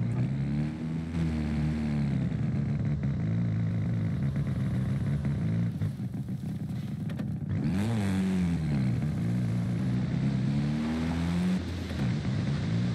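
A stock Mazda RX-7 with a rotary engine revving in Forza Horizon 5, a loud, continuous buzzing engine note rising and falling in pitch through repeated revs, with no talk.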